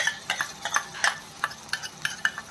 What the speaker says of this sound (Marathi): वाटणसुद्धा कांद्यासोबत परतवून घ्यायचं आहे